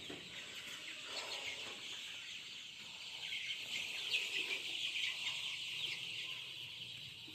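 Seventeen-day-old Sonali chicken chicks in a poultry shed give faint, continuous high cheeping and soft clucks, a quiet chorus with a low background hum and no speech.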